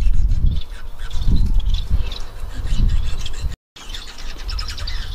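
Bengalese finches, including crested and non-crested birds in chocolate and chestnut colours, twitter in quick high chirps close by, with soft rustling and fluttering underneath and a brief dropout near the end.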